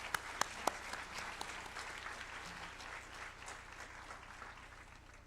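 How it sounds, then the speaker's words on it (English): Audience applause welcoming a speaker onto the stage at a live tech hackathon event, fairly faint and steady with a few sharper claps near the start, fading slightly over five seconds. "I want you all to welcome him with a huge round of applause"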